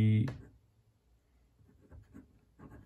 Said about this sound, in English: I'm going to write it fast, guys, and messy